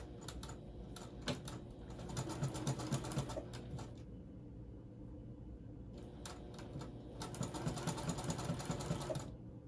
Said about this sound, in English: So yeah, I'm sewing this on.